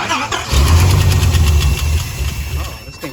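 A Dodge Viper engine fires up on a jump pack, a loud, close, rumbling catch and rough idle that fades within a few seconds.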